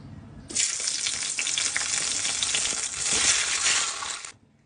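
Tomatoes hit hot oil seasoned with panch phoron and dried chilli and set off a sudden loud sizzle that crackles steadily for about four seconds before cutting away.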